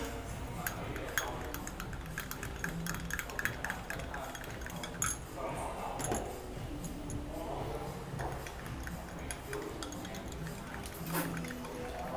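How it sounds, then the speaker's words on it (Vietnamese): A spoon stirs matcha green tea powder in a cup, a soft run of light clinks and scraping taps against the sides, quiet and close, repeating irregularly. "Mình sẽ khuấy cho nó tan cái phần trà xanh này ra ha."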